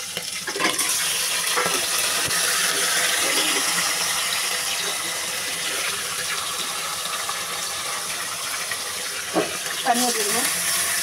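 A big fish head cooks in a pan with fried onions and green chilies, giving a broad, continuous hiss like running water. A few scrapes and clinks stand out near the end.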